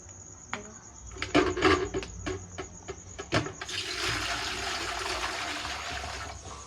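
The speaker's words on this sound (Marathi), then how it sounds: "तर आता आपलं सगळं पाणी भरलं गेलेलं आहे" Water pours from a supply pipe into a fish pond being set up, a steady broadband rush that swells and holds loud and continuous after a few knocks and clatters at the start.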